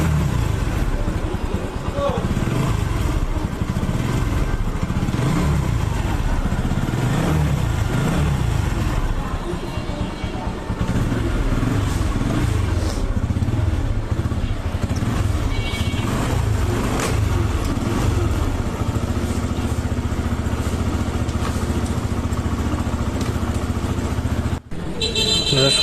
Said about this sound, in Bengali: এখন আবারও বাইকটি স্টার্ট দিব